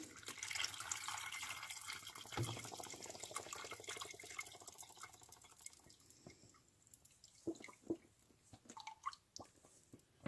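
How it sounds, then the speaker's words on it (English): Filtered water from a Brita jug pours into a container with a rushing stream at first, then gives way to irregular drips and gurgles as the flow tapers off. The sound is close but quiet, with no speech. "let me go ahead and fill it up here with filtered water"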